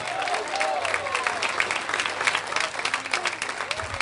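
A church congregation applauds during a sermon, a steady wash of clapping with faint voices and tonal cries drifting underneath.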